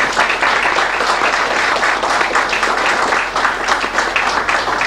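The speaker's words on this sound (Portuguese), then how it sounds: "Solicito de todos os componentes do plenário e da mesa uma salva de palmas aos integrantes." Audience applause fills a public hearing on a city master plan, steady dense clapping from a crowd throughout, loud and sustained without a break.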